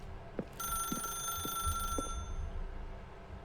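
A telephone rings in the video game The Stanley Parable: Ultra Deluxe, a steady electronic trill that starts after a short knock and continues over quiet, sparse background thuds, with no talking.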